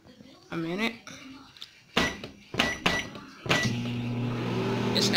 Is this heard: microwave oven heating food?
yes